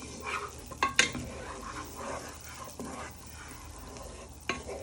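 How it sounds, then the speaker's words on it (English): A wooden spoon stirs carbonara sauce in a pan under a soft sizzle, a few sharp scrapes and knocks against the pan standing out over the low, steady cooking hiss, with no voices. "So you just keep stirring it."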